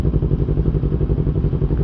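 A two-cylinder motorcycle with a loud aftermarket exhaust on a Sunday morning group ride. It gives a steady, close, loud rumble with a rapid pulsing beat and no voices.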